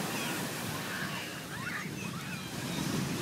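Ocean waves roll in with a broad, continuous wash of surf and sea spray, blended with wind noise buffeting the microphone, loud and close throughout.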